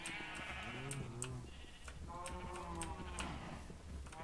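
Sheep bleating in a video game farm, with several animated bleats in a row over a steady tick-like background loop.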